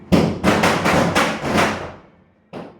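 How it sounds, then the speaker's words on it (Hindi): During Diwali, a rapid string of about six crackling firecracker bangs goes off in quick succession, fading out, then one more pop follows after a short pause. "ये जो बैकग्राउंड में आप पटाखों की आवाज़ सुन रहे हैं"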